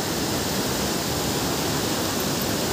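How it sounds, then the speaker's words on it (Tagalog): Powerful, dangerous torrent of rushing water with rising spray, a steady, loud, dense roar with no break, heard alone without voices. "Grabe, rumaragasa yung tubig. Sobrang lakas."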